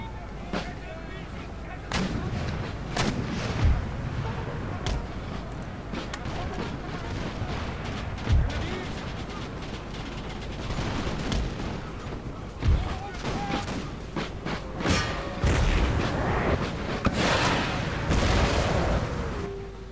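Artillery cannon fire in the Napoleonic-era strategy game Empire: Total War, a Dutch campaign battle: repeated heavy booms and volleys of musket-like gunfire keep rolling throughout over a dense battlefield din, with voices talking underneath.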